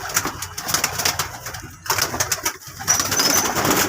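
A Madras pigeon coos repeatedly inside a loft, its soft calls set against a busy background of other birds and rustling.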